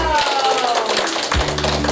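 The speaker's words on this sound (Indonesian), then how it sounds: "Benar, tepuk tangan dulu dong." A class of schoolchildren claps together in a room, a quick patter of many hands running steadily throughout, with a voice heard over the clapping.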